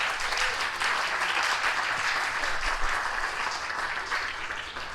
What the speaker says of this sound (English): So please give Katie a round of applause for that.